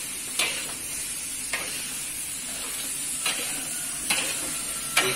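Tempeh fries in a pan of hot oil under a constant loud sizzling hiss, with a utensil stirring and scraping against the pan in several sharp, irregular knocks.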